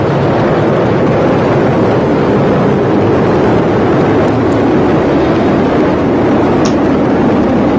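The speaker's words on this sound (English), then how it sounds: "Rocket beginning to roll." A SpaceX Falcon Heavy rocket with 27 Merlin engines roars during the Europa Clipper launch, a steady, loud, broadband rumble that continues unbroken with no talk over it.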